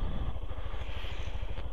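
A motorcycle rolls slowly around a driving test course, its engine running at low, even throttle with a steady chugging pulse, close and loud throughout.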